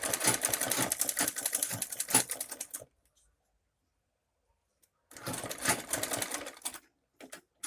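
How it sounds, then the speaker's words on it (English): Domestic sewing machine stitching down a cut placket on a white unisex danshiki, running in two close, rapid bursts of steady mechanical clatter separated by a few seconds of silence, with a brief extra pulse near the end. "So I'm going to sew my thread down to that spot which I have my cut right there."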